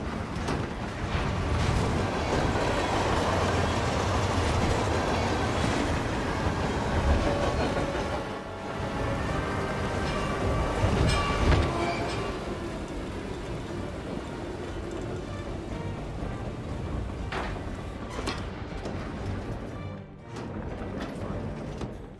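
Train rolling along rails, a continuous loud rumble with rattling and clattering wheel noise that swells and fades over about twenty seconds, with occasional louder knocks.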